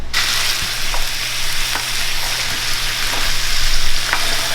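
Two pounds of green beans sizzle steadily while sautéing in a pan, a constant loud frying hiss with faint clicks of stirring throughout.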